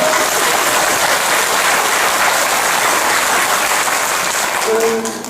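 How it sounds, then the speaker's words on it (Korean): Applause from an audience at a church talk, many hands clapping steadily and evenly for about five seconds and dying down slightly at the end. "박수 소리가 썩 크지는 않았어요."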